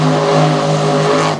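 A race car at Jennerstown speedway roars loudly and steadily, its engine holding a high, harmonic drone close by for the whole moment, with no voices.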